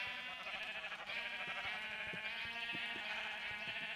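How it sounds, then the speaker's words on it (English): A flock of sheep in Minecraft, set down in a 9x9 hole, gives overlapping, quiet, steady bleats with soft clicks scattered through, and nobody talks. "put down a bunch of sheep"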